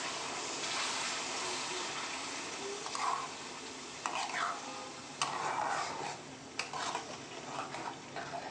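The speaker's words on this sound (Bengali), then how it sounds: "এবার ভালো করে এটাকে আমি নাড়াচাড়া করে নেব মশলাটাকে ভালো করে কষিয়ে নেব" Marinated mutton with spices stirred and fried in a pan, a steady sizzle throughout with occasional scrapes and clinks of a spoon against the pot, close and moderately loud, no talk.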